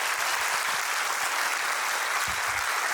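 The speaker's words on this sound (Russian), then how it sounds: "Давайте еще раз аплодисменты Катерине Гульфировой." Loud, dense audience applause at a film screening, continuous even clapping filling the whole stretch with no pauses.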